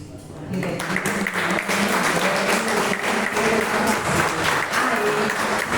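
A church congregation at an evening service applauds steadily in praise, a dense sustained wash of clapping filling the room, with murmured voices mixed in beneath it.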